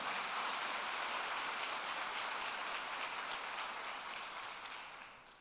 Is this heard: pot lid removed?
no